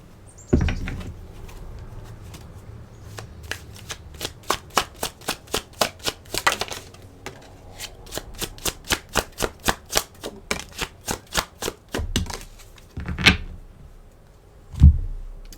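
Tarot cards are shuffled by hand in a quiet room, producing a rapid series of close, crisp riffles and taps in bursts, with a few louder thumps at the start and end.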